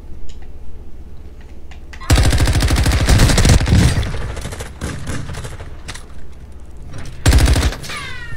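Heavy automatic gunfire from a shooter video game, two loud sustained bursts of rapid shots with quieter scattered gunshots and game noise between them, close and dense.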